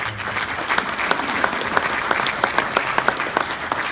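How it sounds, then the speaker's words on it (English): An audience at a St John Ambulance keynote event gives a round of applause for the Canadian Forces, sustained dense clapping with distinct sharp individual claps standing out near the front, steady throughout. "another round of applause for the Canadian Forces"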